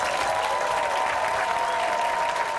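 Sustained applause from a crowd of about 90 new citizens at a naturalization ceremony in Richmond, dense steady clapping throughout with no break.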